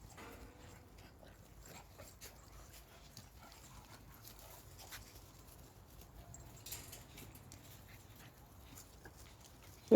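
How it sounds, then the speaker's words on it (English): American bully puppies playing outdoors, with faint whimpers, soft pattering and scuffling under a steady background hiss, fairly distant and low in level throughout. "Just giving y'all a little footage of the puppies playing and everything."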